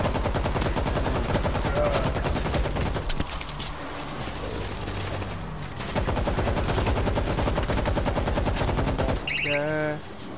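Rapid automatic gunfire in the World War Z zombie shooter, a loud continuous stream of shots with bursts running almost without pause, followed near the end by a brief electronic tone.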